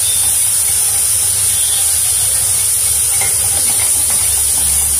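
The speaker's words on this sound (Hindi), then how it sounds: "दो मिनट के लिए लहसुन को इसमें थोड़ा सा भूनने देंगे तेल में, इस तरह से हिलाते हुए" Garlic frying in oil in a pan for Schezwan chutney, a steady loud sizzling hiss that continues throughout with no talk.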